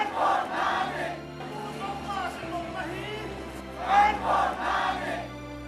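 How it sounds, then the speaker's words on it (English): Crowd chanting and shouting in unison at an outdoor solidarity march in Lunglei in support of Zo ethnic tribes of Manipur, rising in two loud bursts with a murmuring crowd between them. "The sound of the crowd shouting, "We stand beside our brothers and sisters in Manipur" is echoing around the whole city."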